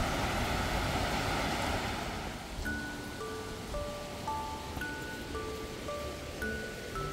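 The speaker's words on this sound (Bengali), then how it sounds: "আস্তে আস্তে আর কি জলের আওয়াজটা যেন ক্রমশ কাছে আসছে বলে মনে হচ্ছে।" Rushing water of a waterfall heard from a narrow jungle path leading to the Mawsawa and Mawsawdong falls, a constant broad roar, strongest at first and easing slightly, later overlaid by gentle tonal music.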